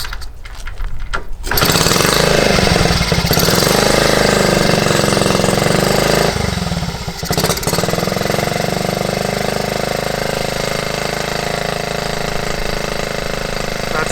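A Honda T50 moped engine, restarted after ten years of sitting, catches after a brief pause and settles into a loud, fast, steady high idle with a buzzing, slightly knocking rattle.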